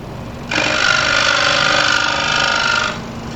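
A new Pegas scroll saw fitted with a coarse blade starts up, buzzes and rattles steadily up close for about two and a half seconds, then stops.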